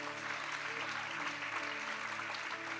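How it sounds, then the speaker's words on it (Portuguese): A church audience applauding at a sermon, with a steady, distant wash of many hands clapping that holds evenly throughout, fairly faint, with no clear voices over it. "Você pode aplaudir o Senhor?"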